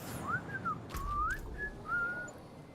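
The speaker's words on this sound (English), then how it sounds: "I don't whistle, but I can whistle better than that." A person whistles a short wavering tune during a casual hangout among friends playing a Diablo 4 game, the thin sliding notes fairly faint over a low room hum, with no talking.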